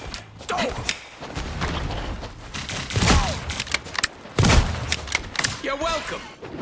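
Video game gunfire in a shooter match comes as bursts of sharp shots and thumps under excited talk, with scattered impacts across the clip.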